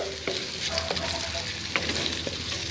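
Pork-fried rice in a wok being stirred with a wooden spatula, a loud constant oily sizzle overlaid with repeated scraping, shuffling strokes and occasional knocks against the metal.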